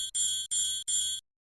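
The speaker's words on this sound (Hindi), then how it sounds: "जैसे ही विद्युत घंटी का परिपथ पूर्ण होता है, ध्वनि सुनाई पड़ती है।" An electric bell inside an airtight glass jar connected to a vacuum pump rings in three quick bright bursts, clear and close, then stops abruptly into silence.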